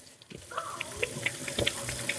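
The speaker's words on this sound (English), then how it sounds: "Let me just wash my hands because I should have done his first." Tap water runs steadily into a sink while hands are washed beneath it, with small splashes and clinks over a continuous close hiss, in a home kitchen during cooking.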